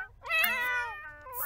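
A single drawn-out cat meow from a video game, clear, close and fairly loud, rising and falling over about a second and heard alone.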